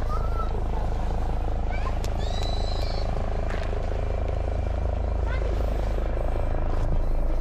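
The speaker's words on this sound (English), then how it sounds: "helicopter's coming to play" A helicopter passes over the Roman grounds at Reculver Towers on the North Kent coast, its steady, loud rotor drone filling the scene with a few faint higher calls and chirps above it.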